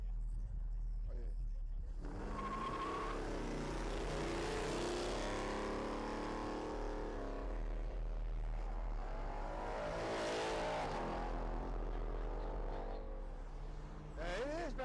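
A supercharged Ford Mustang at a car meet, its loud engine droning and revving over several seconds while people shout and talk close by and crowd noise fills the background.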